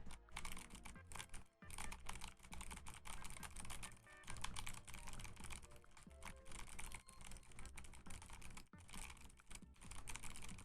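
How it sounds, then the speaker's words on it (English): Rapid, continuous typing on a clacky mechanical keyboard, keys clattering loudly and close up with only brief pauses throughout. "what do you think of the sound of this keyboard?"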